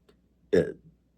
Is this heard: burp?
yes